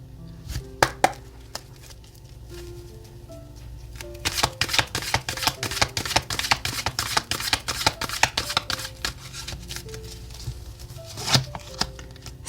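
Tarot cards are shuffled and drawn at close range, a rapid riffling patter that builds into a dense run of crisp card flicks, with a few separate taps and slaps as cards are set down.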